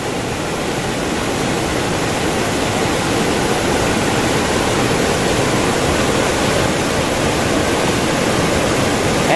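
A fast river current rushes steadily and loudly at a fishing spot, a dense unbroken roar of water with no talk over it.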